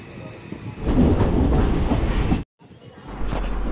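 The Guntur Express passenger train rumbles loudly and continuously at platform 1 of Vijayawada railway station, with rail clatter, a sudden brief drop to near silence, then the heavy rolling noise resumes.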